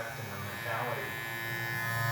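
A JRL Onyx hair clipper hums steadily and quietly close by, its low motor buzz running the whole time with slight swells in loudness.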